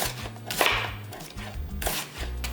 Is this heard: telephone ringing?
no